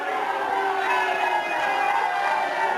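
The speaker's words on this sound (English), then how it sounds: "The crowd is noisy, and that's normal when Bulldog Bob Brown gets into a ring" A noisy wrestling crowd at an NWA St. Louis match for Bulldog Bob Brown keeps up a steady, dense roar of barking and booing throughout, with no clear gaps.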